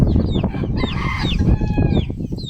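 Farmyard chickens and a rooster cluck and squawk close by during hand-feeding with mulberries, busy overlapping calls and scratching noises continuing throughout.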